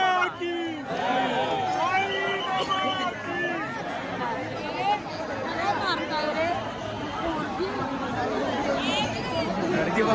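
Dense, continuous babble from a large crowd of pilgrims waiting for darshan at the Shirdi Sai Baba temple on New Year, with many overlapping voices close by and no single voice standing out.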